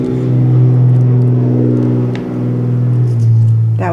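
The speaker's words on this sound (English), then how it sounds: "That was a big truck hauling a big truck." A big truck hauling another truck passes by outside as a loud, deep engine rumble with a steady low drone, swelling, dipping briefly midway, then surging again.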